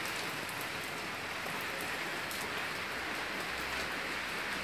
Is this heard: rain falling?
yes